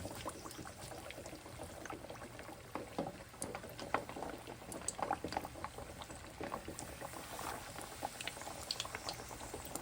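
Oil bubbles and sizzles continuously at low volume as green tomatoes fry, a dense crackling texture with scattered pops, no voices.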